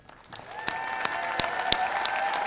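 Applause for graduates of a School of Liberal Arts at a college commencement ceremony, a dense steady clapping that builds over the first second and stays fairly even, with a few sharper individual claps standing out above the wash.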